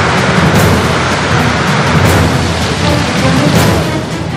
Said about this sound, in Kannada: ಚಿಕ್ಕಮಗಳೂರಿನ ಶೃಂಗೇರಿ, ಎನ್ಆರ್ಪುರ ಸೇರಿದಂತೆ ಹಲವೆಡೆ ಮಳೆಯಾಗ್ತಿದೆ.